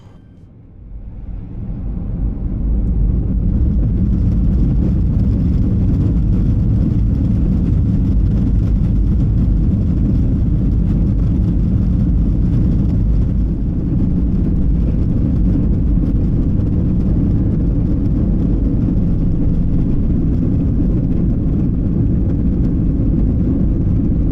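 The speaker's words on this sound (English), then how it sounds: "Today we are taking off in the southerly direction from runway 14 right. Enjoy the takeoff roll." A Garuda Indonesia Boeing 737-800 makes its takeoff roll on runway 14 right, heading to Yogyakarta. Engine roar builds quickly to a loud, steady, deep rumble that holds throughout as the aircraft accelerates.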